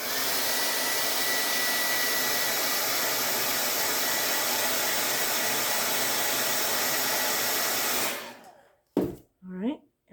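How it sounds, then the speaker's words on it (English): Steady, loud whirring roar of a hair dryer blowing on a handmade DIY rolling pin for about eight seconds, then it cuts off and a few short knocks and handling sounds follow. "I'll blow dry a little bit."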